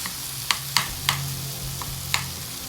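Cooked mango being lightly mashed in a pan for mango pachadi: a few sharp taps and soft squishing strokes over a faint low hum, close and isolated, without speech.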